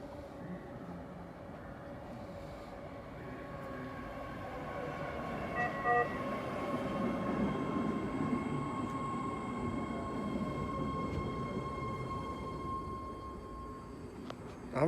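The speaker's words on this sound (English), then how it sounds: "This is a green line train to Berryessa." A ten-car, three-door Green Line light-rail train arrives at platform 1 of a Berryessa-bound station, its steady rolling rumble and wheel squeal swelling near and loud, with brief horn-like tones and station chimes over continuous track noise.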